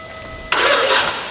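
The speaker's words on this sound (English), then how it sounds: "It's trying to crank." An 800HP Nissan Skyline R33 GT-R Le Mans Edition engine cranks with a sudden broadband burst and catches, running roughly for a moment before settling, close and loud against a quiet background.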